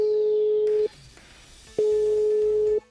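An unanswered call to a housing developer's sales office gives a telephone ringback tone, a clear steady beep sounding about a second, pausing about a second, then sounding again.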